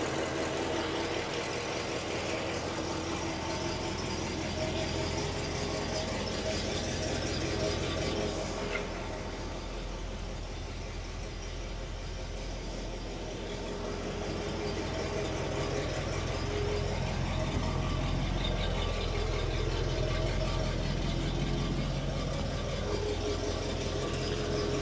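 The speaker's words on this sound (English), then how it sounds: "Gotta love an Oldsmobile engine" A 1968 Oldsmobile Delmont 88 engine idles steadily with a low, continuous rumble, holding a constant level throughout with a slight dip midway.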